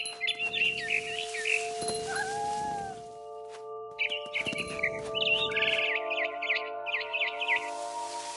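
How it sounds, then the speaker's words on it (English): Chirping of a barn swallow in the video game What Remains of Edith Finch, bright bird calls in bursts over a steady tonal game ambience, with a cat-like yowl mixed in. "Then I heard chirping outside my window. It was a barn swallow going back to her nest."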